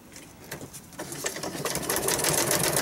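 A sewing machine stitches a clump of embellishments onto an index card with a close, fast mechanical whir that grows steadily louder and denser, with no talking.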